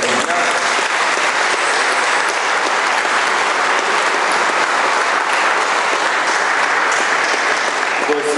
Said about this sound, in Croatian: Ja bih vas zamolio jedan aplauz za našeg Marina.